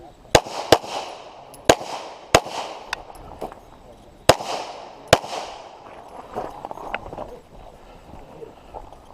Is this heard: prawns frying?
no